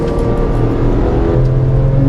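A backdated 1987 Porsche 911 with an air-cooled flat-six drives along, its engine a loud, steady, close drone with a slight rise in pitch partway through, no voices.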